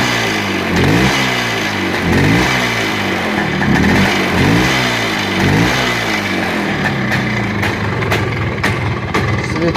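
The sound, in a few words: engine being revved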